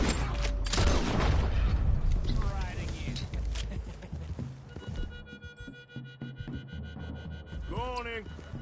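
Steady horse hoofbeats clip-clop in Red Dead Redemption 2 under a dense game soundscape with a low rumble, and the horse whinnies briefly near the end.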